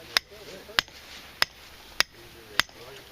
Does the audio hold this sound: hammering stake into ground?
yes